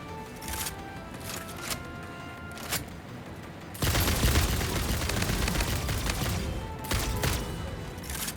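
Gunfire from the factory-building game Satisfactory: scattered shots at first, then a loud, dense burst of rapid automatic fire that continues without pause to the end.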